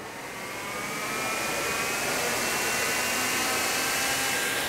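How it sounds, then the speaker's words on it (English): The cooling fan on a helicopter hardware-in-the-loop demo rig whirs steadily and ramps up in pitch and loudness over the first second or so, then holds a broad, even rushing drone with faint tonal whine. "you maybe hear the fan speed up a little bit"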